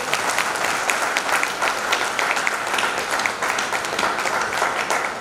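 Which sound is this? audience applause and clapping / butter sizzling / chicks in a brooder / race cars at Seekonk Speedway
audience applause and clapping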